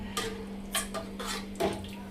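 A lid set on a pot of dal with soybean left to boil; a few faint metallic clinks and clatters spaced apart over a low steady hum, no talking.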